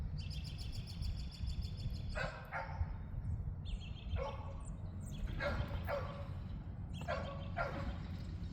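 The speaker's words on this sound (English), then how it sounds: "There's a dog barking over there." A dog barks from across a school garden, several bursts of two or three barks spread through the clip, fairly distant and moderate over steady outdoor background noise.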